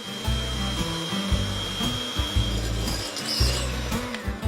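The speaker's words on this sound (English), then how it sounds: "Separate 4 egg whites and whisk." Egg whites are whisked for meringue with a steady, loud whirring that swells and dips in a regular rhythm throughout.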